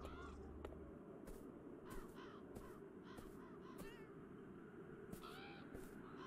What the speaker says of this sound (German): dachte eigentlich, dass ich eine Katze gehört hätte